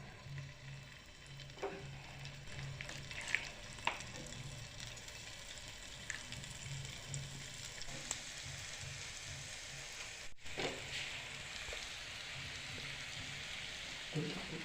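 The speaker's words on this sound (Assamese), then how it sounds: "গৰম হ'লে আমি ইয়াতে মাংসৰ পিচবোৰ দি দিম।" Chicken pieces frying in butter in a pan over a medium gas flame give a steady close sizzle with scattered small pops and crackles throughout; no talk.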